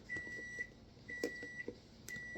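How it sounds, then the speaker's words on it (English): A microwave oven heating hot dogs hums faintly while several short, quiet electronic beeps sound at intervals. "My dad put some hot dogs in the microwave."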